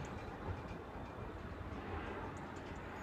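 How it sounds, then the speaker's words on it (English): A Greater Anglia class 321 electric train, unit 321322, runs at Southend with a steady, even rumble that holds throughout, with no voices and no clear wheel clicks. "we now find ourselves with 321322, working the 1307 Greater Anglia service to Southend Victoria from London Liverpool Street."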